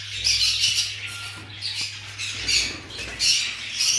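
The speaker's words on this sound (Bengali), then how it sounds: "এক জোড়া ইংলিশ বাজরিগার রয়েছে" A pair of English budgerigars squawk and chatter almost without pause in harsh, scratchy bursts. The calls are close and loud, with faint patter from the cage and no talk.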